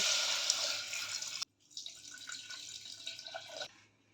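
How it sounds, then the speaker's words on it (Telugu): Water pours steadily into a cooking pot holding paya (goat trotters) with salt, turmeric, chili and coriander powder, a close, continuous splashing that breaks off briefly and then resumes for a couple of seconds before stopping. "ఇప్పుడు ఇవి మునిగేంత వరకు వాటర్ వేసుకుందాం"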